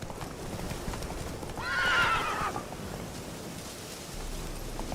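In The Witcher 3: Wild Hunt, a horse's hooves clip-clop in a steady rhythm over ground, and midway a loud whinny rises and fades, with faint ambient rustle behind and no talking.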